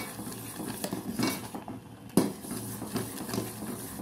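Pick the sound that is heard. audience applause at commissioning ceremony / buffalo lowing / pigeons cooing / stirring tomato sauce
stirring tomato sauce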